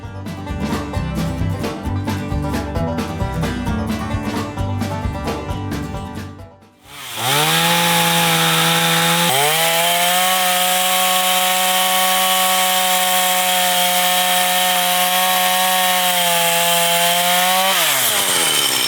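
A chainsaw with a blunt chain, dulled after hitting a nail, labours through wood outdoors, loud and continuous; a busy grinding first stretch gives way after a brief dip to a steady high whine that holds near and strong before cutting off.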